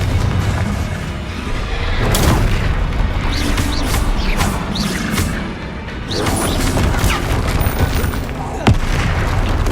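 Spell explosions from Bombarda and Confringo boom and crash again and again during a Hogwarts Legacy battle, loud and dense with repeated heavy impacts and clatter throughout.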